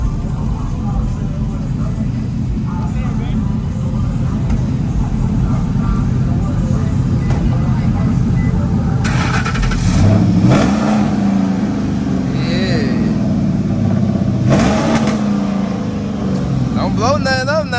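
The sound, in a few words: lifted truck engine revving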